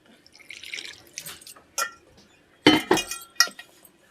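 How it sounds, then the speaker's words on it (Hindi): Water splashes and trickles into a bowl of batter being mixed for mustard greens (sarson ka saag), in a few uneven pours with small clinks, close and fairly loud, with no talking. "पानी डाल लेते हैं थोड़ा सा।"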